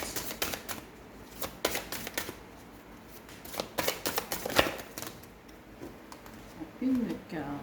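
Playing cards are shuffled and laid out on a table, a run of crisp riffles and snapping flicks with scattered slaps, while someone speaks French nearby.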